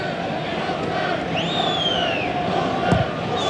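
Perth Glory football fans chant from the stands at a grand final against Sydney Olympic Sharks, a broad steady crowd roar with a rising shout riding over it, distant and continuous without a break.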